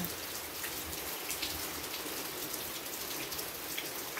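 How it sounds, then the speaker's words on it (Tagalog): Heavy rain pours down steadily in a dense, even hiss, with drops pattering on surfaces close by and nothing else audible. "Tsaka bumuhos yung ulan."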